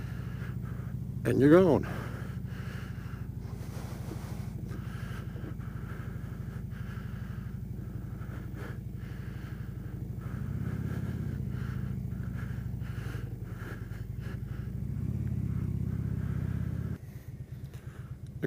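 A motorcycle engine idles and runs with a steady low rumble, a sharp rev burst early on and rising throttle later, close to the microphone, with a brief spoken remark over it.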